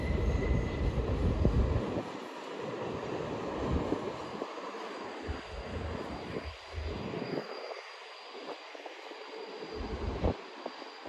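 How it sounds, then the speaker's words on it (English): An LIRR M7 electric commuter train, built in the late 1990s, pulls into Hunterspoint Avenue with a loud rumbling roar at first that eases into a lighter, uneven clatter and hum as it slows, with no talking. "Another M7's coming."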